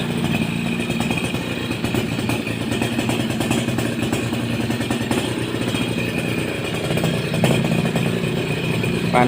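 A Suzuki RC100 motorcycle idles smoothly up close, its engine keeping an even, continuous putter with light mechanical clatter and a small swell in loudness toward the end.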